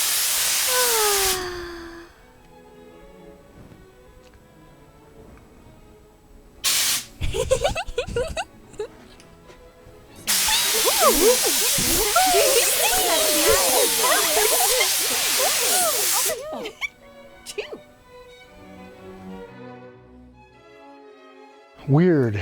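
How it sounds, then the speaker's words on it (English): An air nozzle blows hissing jets of compressed air to clean off canvases in an art studio: a short blast, a brief burst, then a sustained six-second hiss, with someone talking over and between the bursts. "this thing, which is an air nozzle. This is useful for cleaning off canvases."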